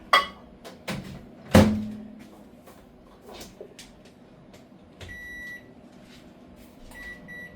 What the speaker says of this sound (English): I'm gonna put this into the microwave, and I'm gonna let it cook up.